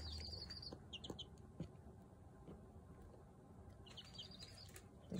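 Small pet birds rustle and shuffle about quietly nearby, letting out a few short high chirps near the start and again toward the end, with soft scratches and a couple of light thumps, all faint and without talk.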